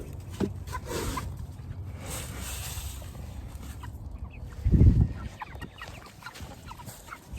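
Chickens cluck and murmur around a farmyard among ducks and rabbits, soft overlapping calls nearby, with a louder low burst of sound near the middle.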